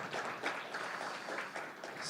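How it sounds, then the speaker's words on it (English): Faint, soft round of applause for a speaker at a blockchain presentation, brief and steady clapping heard from a distance in a room. "if we could give Colin a round of applause, please."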